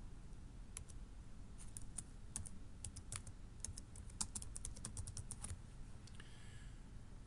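Quick bursts of key clicks as a password is typed on a computer keyboard, close and fairly crisp over steady background hiss, in irregular clusters with brief pauses between them.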